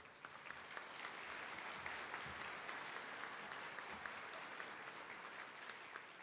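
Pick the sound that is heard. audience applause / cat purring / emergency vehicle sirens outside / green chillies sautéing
audience applause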